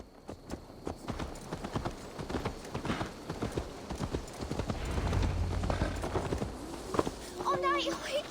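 Horse hooves clip-clop at a steady walking pace in Assassin's Creed Valhalla, close and distinct, while a person talks over them and a brief tonal game sound appears near the end.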